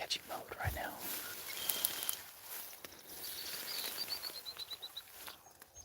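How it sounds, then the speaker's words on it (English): Birds calling in a North Dakota field at sunset, scattered chirps and a short run of repeated high tweets at moderate distance, with soft whispering voices and faint rustling underneath. "Lots of bird noises are happening, but no pheasant noises."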